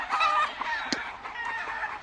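A small round-head hatch rooster clucks and murmurs nearby on a Louisiana farm, a loose string of throaty calls with one sharper note midway, fairly quiet and unaccompanied by talk.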